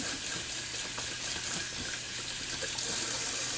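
A natural badger hair shaving brush with a High Mountain Badger knot is rinsed under a running tap, giving a steady, close hiss of water splashing through the bristles without pause.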